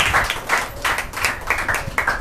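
Rhythmic clapping from a church congregation during a Hindi Sunday worship service, brisk and fairly close, with steady beats and no talk over it.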